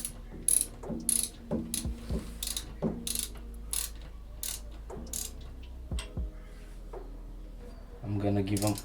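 Torque wrench ratcheting in short clicking bursts while tightening the rear brake bolts on an Audi A6 C5, several separate bouts of close mechanical clicks spread across the clip, with a denser rattle near the end.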